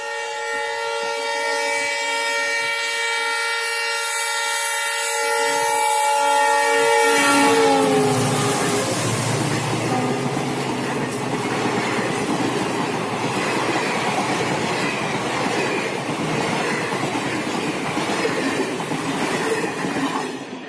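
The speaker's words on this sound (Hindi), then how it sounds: "ट्रेन अपनी पूरी रफ्तार से आ रही है धूल उड़ाते हुए।" A train races past at full speed along a line undergoing electrification, opening with a long, loud sustained horn blast, then a roaring rush of wheels and wagons with steady rattling clatter that stays loud to the end.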